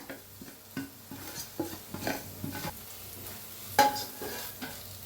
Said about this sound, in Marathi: आता ह्याच्यात जो मसाला आपला उरला होता ते बी भाजून घेऊया.